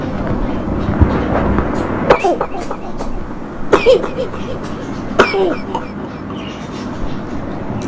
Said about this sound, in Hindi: इसको भी खांसी है, चेस्ट इन्फेक्शन है।